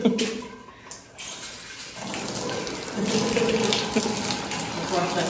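Water runs steadily from a tap during a dog's bath, a close rushing flow that grows fuller after a brief quieter start, with people talking softly over it.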